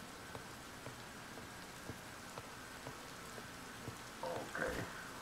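Steady rain in the survival game Raft pours down as a dense, even hiss with faint scattered drops, and a few slightly louder splashes come near the end.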